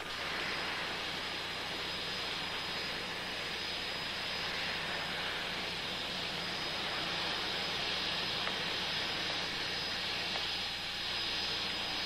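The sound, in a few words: airplane departing, flight 892 to London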